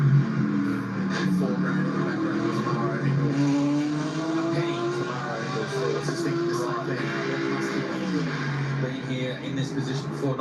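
Race cars at the Bathurst 12 Hour endurance race, engines droning and shifting pitch as they pass at a distance, a continuous motor roar under the steady voice of a commentator.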